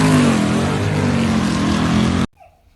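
A V8 engine in an LS-swapped 3000GT race car roars loud and steady at high revs under strain, then cuts off abruptly into near silence.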